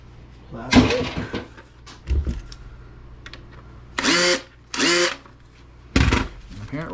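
Power drill with a screwdriver bit driving screws out of a plastic item being scrapped, with several short whirring bursts and clunks of the workpiece shifting, close and loud, with someone talking in between.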